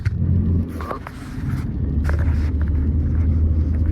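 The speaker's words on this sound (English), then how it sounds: "accelerating at about 40 around this hill here" A Ford BA/BF Falcon accelerates uphill around a bend, its engine a close, steady low rumble that dips briefly before building again, with a few light knocks and scrapes from inside the cabin.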